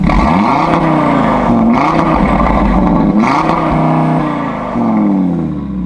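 A Stage 1 Audi RS3 with a 4-inch CTS intake and turbo inlet revving repeatedly, loud close engine and exhaust sweeping up and dropping back in several quick bursts, then settling to a steady idle.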